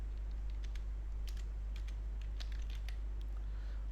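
Fingers tap out text on a computer keyboard in a quick, uneven run of light clicks over a steady low electrical hum, close and clear with no voices.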